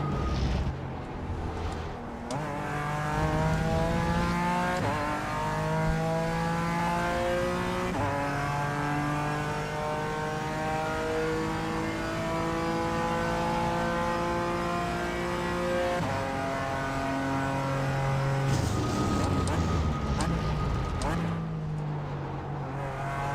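A GT4 race car engine drones loudly from inside the cockpit, rising steadily through the revs with a stuttering cut near the end as traction control intervenes, voices talking faintly over it.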